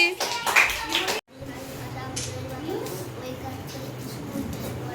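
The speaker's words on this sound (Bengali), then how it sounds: "হাততালি" A crowd claps at a small Teachers' Day function, with a burst of applause, a sudden cut to near-silence, then quieter scattered clapping mixed with children's voices.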